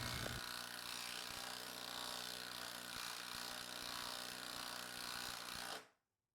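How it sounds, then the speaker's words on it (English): An older Milwaukee M12 Fuel cordless drill, about seven years old, bores steadily with a step bit, a continuous close grinding whir lasting nearly six seconds before stopping abruptly. "This is an older drill. It's roughly about 7 years old. It is still a fuel version of the M12"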